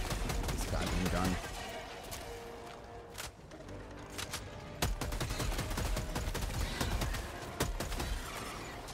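Rapid gunfire rattles almost without pause in the video game Helldivers 2, with dense bursts and sharp individual shots layered over one another, and a player's voice talks over the shooting.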